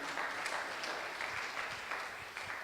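A church congregation applauding during a Spanish-language worship service, dense, even clapping sustained throughout at a moderate distance, no voices standing out.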